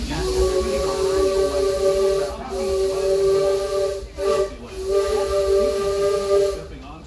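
The Disneyland Railroad steam train pulls out of Toontown Depot with a loud, sustained steam whistle over hissing steam, the whistle broken by brief gaps, close and steady throughout.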